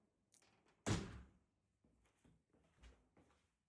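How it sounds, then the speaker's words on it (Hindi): A door blown by strong wind bangs shut once with a solid thud, followed by quieter knocks and rattles as it settles. "डोर खुद ब खुद बंद होते हैं, खुद ब खुद खुल जाते हैं।"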